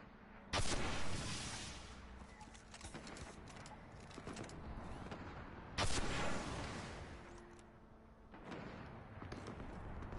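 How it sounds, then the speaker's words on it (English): Rockets fired in a shooter video game, two sharp loud launches spaced several seconds apart, each followed by a rumbling decay, with a third softer burst near the end over low background noise. "I'm gonna shoot a couple of rockets off."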